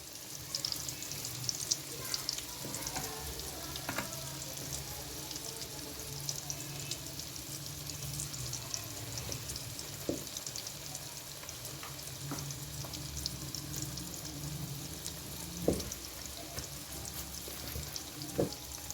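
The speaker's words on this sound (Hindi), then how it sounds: "हम इसमें पकौड़े कढ़ाई में डालते जाएंगे" Steady crackling sizzle of cabbage pakoras deep frying in hot oil in a wok, with occasional small pops and clinks, continuous and fairly quiet throughout.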